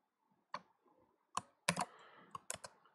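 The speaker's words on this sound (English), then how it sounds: "I'm typing off screen" Typing on a computer keyboard during a network test, heard as a few separate clusters of sharp key clicks with pauses between them, close and moderately loud against a quiet background.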